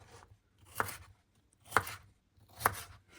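Knife chopping vegetables on a board for a Bulgarian shopska salad, three distinct close cuts spaced about a second apart with quiet pauses between, no talking.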